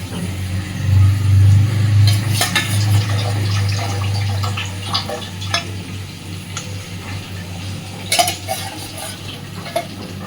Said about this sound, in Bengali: খুব সুন্দরভাবে ঝোল ফুটতে শুরু করেছে